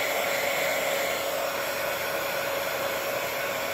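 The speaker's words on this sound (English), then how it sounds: "make sure you keep your fingers out from in front of the heat gun" A heat gun blows hot air onto a handmade Christmas card to raise embossed snowflakes, giving a steady, close whirring roar with an airy hiss and a constant motor hum that never changes throughout.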